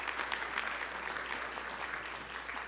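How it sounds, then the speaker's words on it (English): A round of applause from a group of adults at a professional development session, a continuous patter of many hands clapping at a moderate, somewhat distant level, with no talking over it. "a round of applause for Brandon"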